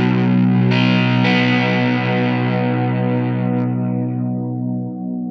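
Electric guitar played through stacked gain pedals gives thick, saturated distortion: a loud chord struck near the start, followed by a couple of quick re-picks, then long sustain that gradually fades, with no voices.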